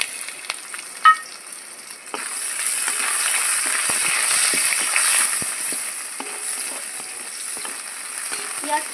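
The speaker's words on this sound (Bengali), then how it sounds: "পেঁয়াজটা একটু লাল করে ভেজে নেব" Chopped onion frying in hot oil with bay leaf, dry red chilli and whole cumin, a broad steady sizzle that swells after an early sharp clink, with faint scraping stirs near the end.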